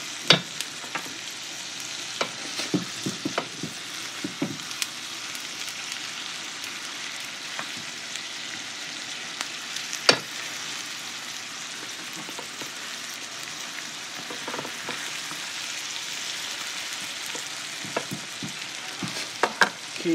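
Food fries in a skillet as seasoning is stirred in, a soft constant sizzle broken by scattered clicks and scrapes of the utensil against the pan, with no talking.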